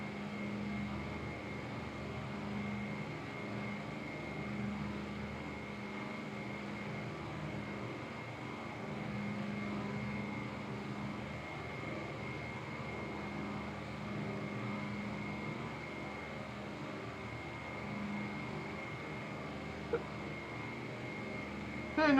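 A Breitling DC-3 vintage propeller airliner in flight gives off a steady, low engine drone with an even tonal hum, constant and moderately quiet throughout, heard from inside the cabin without speech.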